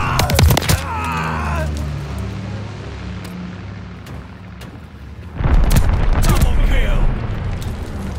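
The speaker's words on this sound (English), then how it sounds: "Teammate called a bombing run." Bombing run explosions in Call of Duty: Vanguard, heavy booms and rumbling blasts at the start and again toward the end, with a low sustained roar between them and brief voice callouts over the game noise.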